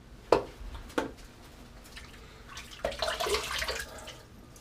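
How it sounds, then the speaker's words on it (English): Water splashed up onto a face from a bathroom sink before a first shave, with two sharp close splashes followed by a longer run of scooping and dripping sounds, no voices. "I'm gonna get my face wet really quick"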